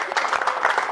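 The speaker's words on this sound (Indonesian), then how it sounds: "Tepuk tangan dulu teman-teman" Studio audience applause at an Indonesian comedy roast welcoming actress Gisela Anastasia, a brief dense burst of clapping at steady loudness with no voice over it.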